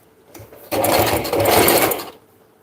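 A sewing machine stitches the inseams of a garment in one close, rapid mechanical burst of about a second and a half, with quiet before and after.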